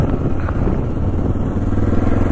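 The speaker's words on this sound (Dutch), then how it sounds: "Dit is dus een A2 motor." A2-class motorcycle engine running while riding, a loud steady low rumble with mid-range engine drone and slight clatter, continuous and close with no voices.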